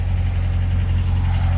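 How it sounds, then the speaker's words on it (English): Dune buggy engine running steadily while warming up through heat cycles, a loud, low, even idle rumble with a regular pulsing throb, close by and without talk. "You can see that this engine's been running really nicely."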